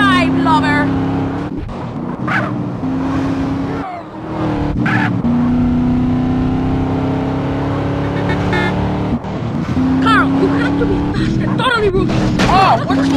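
A car engine in GTA San Andreas, droning steadily and loudly as the car drives, with pitch shifts as it revs and changes gear, under voices talking over much of it.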